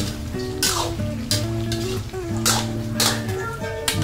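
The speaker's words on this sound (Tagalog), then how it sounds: "Hayaan po muna natin kumulo bago po natin ito haluin." Chicken adobo with vinegar simmers and sizzles in a pan on a home stove, with a steady bubbling hiss, occasional utensil clinks and a hum of background tones.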